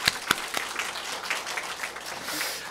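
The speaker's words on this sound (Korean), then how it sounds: "다시 한번 우리 하나님께 박수 드립니다." A church congregation at a Sunday service in Daegu claps together, a short burst of loud scattered applause fading into a softer patter.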